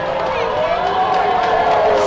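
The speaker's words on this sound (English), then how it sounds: "the crowd are still very excited and going, giving their support to the final Red Lion who has just touched down" A large outdoor crowd cheers and calls out continuously as the final Red Lion parachutist touches down at a hospital during a national day parade, a dense roar of voices throughout.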